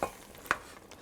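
Vegetables with peas are stirred in a pot, giving two or three quiet scraping knocks of a spoon over a faint background, with no talking.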